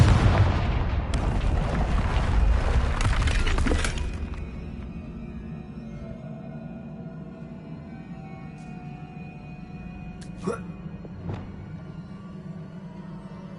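A Confringo blast spell in a Harry Potter video game erupts in a loud booming explosion with a rumbling roar for about four seconds, dying into a low ambient hum with a couple of sharp clicks later.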